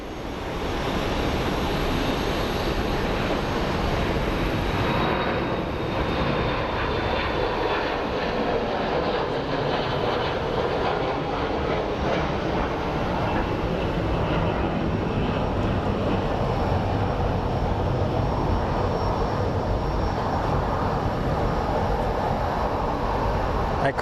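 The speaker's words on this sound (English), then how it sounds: "And then we have the Delta Connect going over to LAX." A Delta Connection airliner passes overhead at Sky Harbor International Airport, its engine roar a steady, broad rumble that holds strong for the whole stretch, with no talking.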